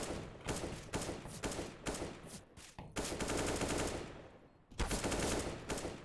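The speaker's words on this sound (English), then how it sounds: "Shots ring out." Bursts of rapid gunfire from the video game Counter-Strike during a professional IEM Katowice 2019 match, loud and close, arriving in several dense volleys separated by brief gaps, with no voices.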